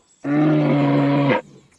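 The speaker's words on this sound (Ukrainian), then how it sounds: "Це ведмідь." A bear's roar played as a children's speech lesson example: one loud, sustained roar lasting about a second, with no talk over it.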